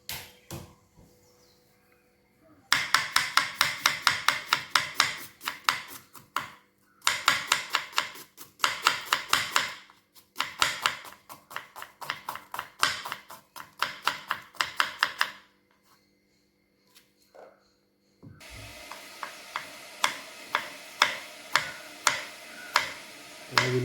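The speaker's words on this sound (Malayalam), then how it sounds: "ഇനി അതിലേക്കുള്ള ഉള്ളി, തക്കാളി, പച്ചമുളക്, വെളുത്തുള്ളി, ഇഞ്ചി ഒക്കെ ഒന്ന് വെട്ടിയും ചതച്ചൊക്കെ റെഡിയാക്കി എടുക്കാം." A knife chops onion, tomato, green chilli, garlic and ginger on a board for fried chicken biryani, sharp rapid taps in fast runs separated by short pauses, followed by heavier thuds of crushing.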